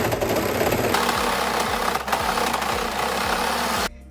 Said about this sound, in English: And now I'm going to overlock this back yoke seam.